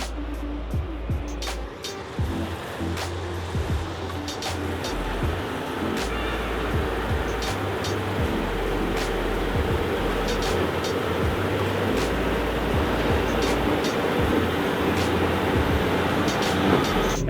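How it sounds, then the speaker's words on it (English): Claas Lexion 8600 combine harvester running in a California rice field at sunset, a continuous heavy mechanical rumble with low droning engine tones and scattered clatter, close and steady throughout. "Let's sign off by getting a cool little shot of this combine here."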